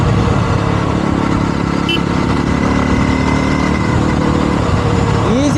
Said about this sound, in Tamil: அந்த பாப்ஸ் அண்ட் பேங்க்ஸ் வேறு சைலன்சரில்.